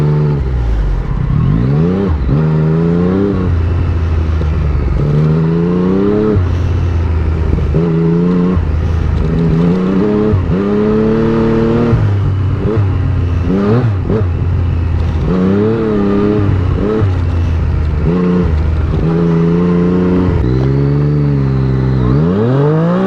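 Yamaha FZ-09 motorcycle engine revving hard while riding, with repeated rising sweeps through the gears and brief drops between shifts, loud and close throughout.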